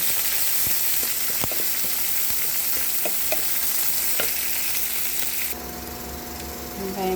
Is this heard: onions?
yes